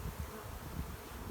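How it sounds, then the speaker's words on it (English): Honeybees buzz steadily in an opened hive during spring preparation, a dense, close, continuous drone with no talk. "You can see there's a big concentration of bees over here."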